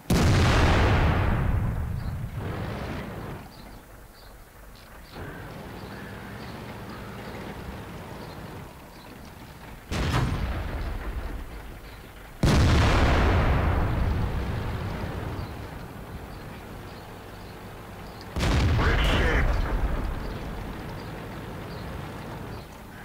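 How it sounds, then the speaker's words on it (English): In the tank game World of Tanks, heavy artillery fire booms out in four loud, deep blasts spread over about twenty seconds. Each blast fades into a long rumbling tail, with no voices. "Wow, that must have been an artillery."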